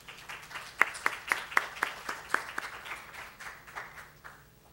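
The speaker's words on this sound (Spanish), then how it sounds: "¿Alguien pide un aplauso?" Spoken-word audience at an auditing lecture gives a brief round of applause: a handful of distinct, fairly sharp claps in a loose rhythm that soon thin out and fade, heard fairly quietly in a room.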